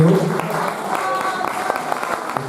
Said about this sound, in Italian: Un applauso a Antonio Ruglio